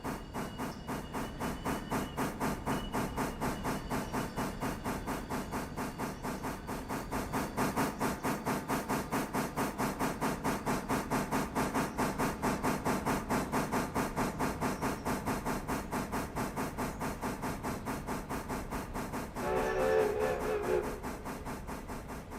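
Train engine in the video game Train Sim World, a steady hissing steam-like chuff with regular rhythmic beats throughout, with a brief brighter burst of noise near the end and no talk.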